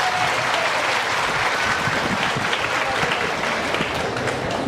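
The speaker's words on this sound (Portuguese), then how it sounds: "Essas palmas, elas são diferentes das palmas do Padre Walter." Applause from a congregation during a Mass in church, dense and steady clapping that carries evenly throughout and fills the space.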